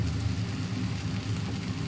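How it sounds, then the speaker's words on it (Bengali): Onions and green chilies fry in oil in a pan with a steady low sizzle and a few stirring scrapes, close and continuous with no talking. "এই যে ভাজা ভাজা হচ্ছে"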